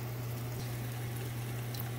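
Chardonnay wine splashes into a hot pan, giving a steady soft sizzle and hiss over a constant low electrical hum, fairly quiet and continuous, with no talking.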